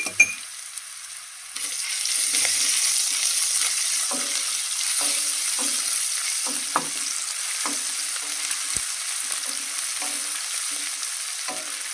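Ginger garlic paste sizzles steadily with onions in a hot pan, a close, continuous fry broken by occasional stirring scrapes and taps.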